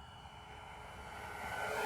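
An FMS F4U Corsair 1.7m RC model airplane flies at full throttle, its motor giving a steady whine that swells louder as the plane passes nearer.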